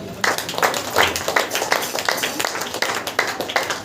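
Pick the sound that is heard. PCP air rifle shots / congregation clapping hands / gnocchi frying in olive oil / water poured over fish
congregation clapping hands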